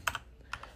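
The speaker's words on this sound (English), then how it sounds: "I'm gonna be having a little more sloppy spelling or clicks here, just because I'm getting used to the new keyboard" Quick keystrokes on a new computer keyboard, a few crisp clicks in two small bursts, close and fairly quiet while coding a tic-tac-toe bot in Python, with no talking.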